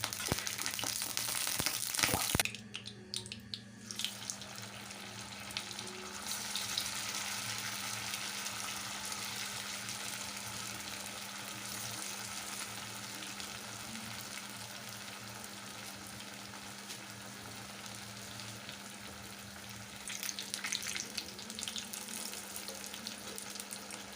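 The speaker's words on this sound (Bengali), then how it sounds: "এবার এগুলো আমি গরম গরম ছেঁকে নেব, লাল লাল করে ভেজে তুলে নেব" Potato and flattened rice snacks deep-fry in oil in an iron wok, giving a steady close crackle and sizzle that runs for the whole stretch, with a brief clatter of stirring near the start.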